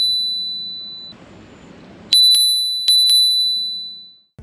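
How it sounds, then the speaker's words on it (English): Bell of a Hiboy S2 Pro electric scooter, a bright metallic ding rung sharply two times in quick pairs, close and clear, each ring decaying slowly into quiet. "And this is how the bell sounds."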